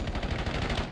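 Rapid burst of gunfire from a played video, a dense run of shots filling about a second at steady volume with no talk over it.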